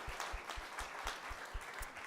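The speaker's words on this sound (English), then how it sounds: "Yes, round of applause." Steady applause at a startup pitch competition event, dense hand clapping from a crowd that holds a constant level throughout, with no talking over it.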